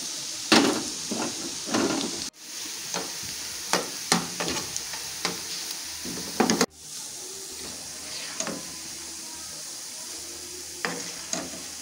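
Besan batter drops into hot ghee as boondi and fries with a soft crackling sizzle, broken by repeated scraping and stirring strokes and a couple of sharp knocks against the pan.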